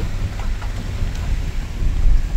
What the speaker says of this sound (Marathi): आणि खूप छान पाऊस पडतंय मस्त.